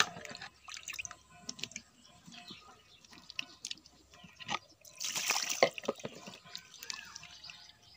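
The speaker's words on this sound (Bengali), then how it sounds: "আজ মাংস রান্না করব বলে পেঁয়াজ, আলু, টমেটো ভালোভাবে ধুয়ে নিচ্ছি।" Onions, potatoes and tomatoes are washed in water before cooking meat, giving faint, irregular splashes and drips with a louder swish of water midway.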